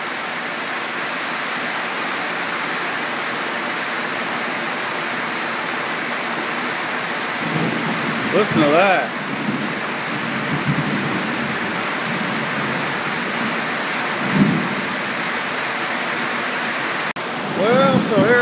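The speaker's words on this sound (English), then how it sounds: "I don't like the rain, and it is pouring." Heavy rain pours down in a dense, steady hiss that never lets up, heard from under a covered bridge, with a person talking briefly over it now and then.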